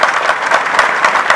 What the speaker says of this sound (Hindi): मैं आप सभी से निवेदन करता हूं कि आप तालियां बजाकर उनका अभिनंदन करें